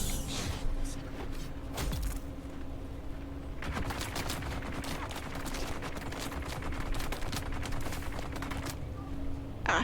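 Enemy gunner firing in Dune Awakening, a sustained rattle of rapid shots at moderate distance over a steady background hum, growing denser partway through, with no voices.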